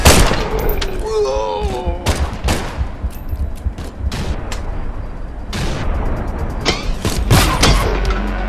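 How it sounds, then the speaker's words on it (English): Gunfire crackles through a VR shooter set in Vladivostok, a string of sharp, loud shots spaced unevenly across several seconds, with a voice talking between them. "These friggin' shots are doing my head in."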